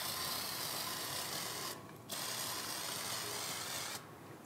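A rag wipes acetone and layout fluid off a sheet metal fill panel for a 1970 Dodge Charger, steady close rubbing strokes with two brief pauses and no talking.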